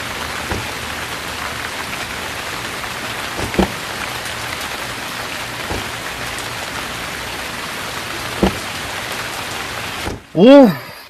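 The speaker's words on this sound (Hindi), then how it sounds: "अचानक इतनी तेज बारिश?" Sudden heavy rain pours steadily, a loud dense hiss with a few sharper splashes, close and continuous until a voice speaks briefly at the very end.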